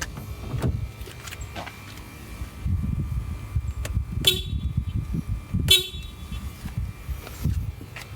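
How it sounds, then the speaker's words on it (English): Weak stock horn on a 9th gen Honda Civic, sounded in two short honks a second or so apart amid faint outdoor rumble, thin and not very loud. "for anyone that doesn't actually follow my channel and is just watching this to learn how to replace a Civic horn, we shall demonstrate why we're replacing it"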